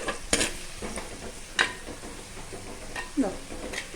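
Small onions being sautéed in a pan for crab curry, a soft sizzle with a few sharp clinks and scrapes of stirring spread through it.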